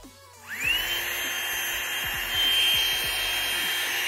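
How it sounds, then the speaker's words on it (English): A small electric air pump whirs on at about half a second and keeps running steadily as it inflates a camping air mat, a close, continuous motor hum with a high whine, with some faint handling knocks beneath it. "This is the little pump here."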